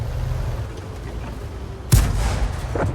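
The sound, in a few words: tank cannon firing in video game War Thunder, M10 Wolverine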